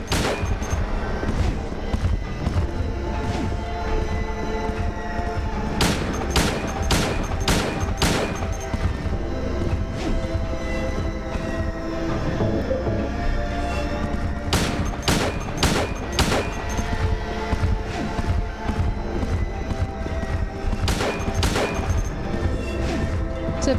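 Pistol shots fired at Pyramid Head in the Silent Hill 2 video game ring out as sharp cracks, in clustered bursts around six to eight seconds and again near fifteen to eighteen seconds, over a dense, loud game soundscape.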